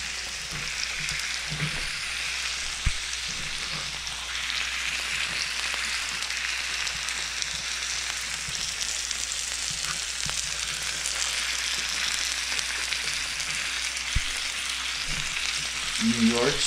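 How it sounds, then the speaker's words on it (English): A New York strip steak sizzles steadily in a little oil, a continuous close frying hiss with occasional soft pops and faint clinks, no talking over it. "New York strip steak, we're cooking."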